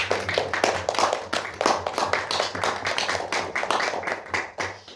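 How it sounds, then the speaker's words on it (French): Audience applause at a cello master class, a dense burst of clapping that holds steady for several seconds close by, with a few stray individual claps standing out. "Donc, vraiment, on peut l'applaudir aussi."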